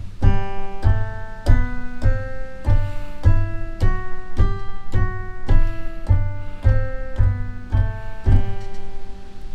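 Keyboard played in a basic rhythm exercise: a steady run of evenly spaced chords, roughly one per beat, sounding clean and close with no talking.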